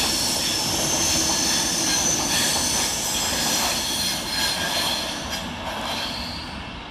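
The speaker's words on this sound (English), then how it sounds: "Up next for Avanti West Coast is 390013, working 1H06 from London Euston to Manchester Piccadilly." Avanti West Coast train 390013 runs through Cheadle Hulme station, a loud continuous rumble of wheels on rail with metallic squeal and high whine that eases slightly toward the end, no voices.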